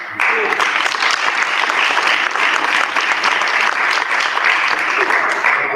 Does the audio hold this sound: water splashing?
no